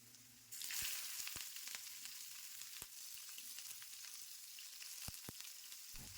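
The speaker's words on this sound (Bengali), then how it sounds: "আলু পেঁয়াজ তেলের সাথে নাড়াচাড়া করে ভাজা হয়ে গেলে" Potatoes and thinly sliced onion fry in hot oil, a steady soft sizzle broken by sharp clinks and scrapes of a spatula stirring in the pan, with no talking.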